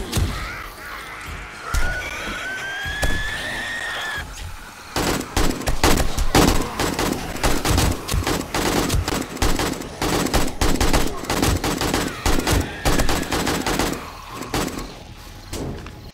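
Video game gunfire in 7 Days to Die, rapid bursts of loud shots that keep firing for most of the stretch, close and dense, with brief quieter gaps at the start and end.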